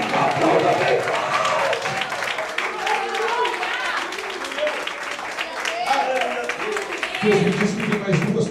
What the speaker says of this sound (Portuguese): Aplauda bem forte, Senhor. Aplauda bem forte.